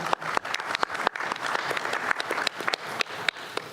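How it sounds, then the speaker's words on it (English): A meeting audience at a board of directors planning session applauds committee members, scattered, uneven clapping with distinct individual claps popping out over a lighter room-wide patter. "And I think they deserve some applause."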